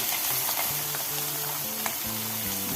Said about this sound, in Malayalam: മീൻ ഇട്ട് കൊടുക്കാം ചേർത്ത്